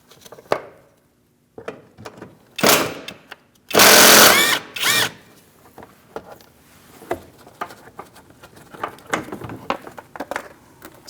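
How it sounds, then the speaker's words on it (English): A 10mm socket wrench ratchets in short rattling bursts while bolts on the underside shield of a 2002-2006 Toyota Camry come out, with one loud spell in the middle, scattered metallic clicks and handling noises around it, all up close. "We're going to remove the shield using a 10mm socket."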